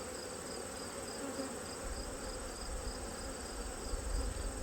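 A crowded open hive of honeybees with plenty of brood gives off a thick, constant buzz up close, with a faint low rumble of handling near the end and no speech.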